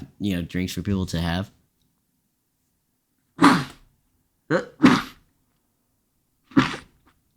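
Three sharp human sneezes burst out in a row, separated by pauses, following a stretch of speech; loud and close in an otherwise quiet room.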